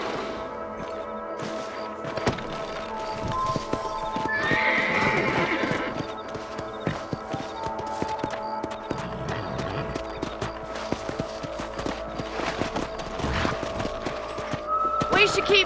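Horses in the Western video game Red Dead Redemption clip-clop and gallop with repeated whinnies and neighs, hooves thudding rhythmically while voices talk over them.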